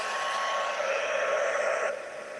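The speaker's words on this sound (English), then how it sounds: "And we'll just heat set this." A heat tool blows a steady, close whooshing hum while setting stamped ink on a card, running continuously and easing slightly near the end, with no talk.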